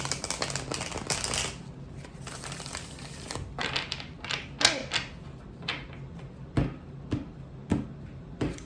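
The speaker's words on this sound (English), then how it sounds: "Let's give it one more shuffle." Tarot cards being shuffled by hand: a dense riffling crackle at first, then scattered crisp card slaps and taps spaced out, close up and fairly quiet.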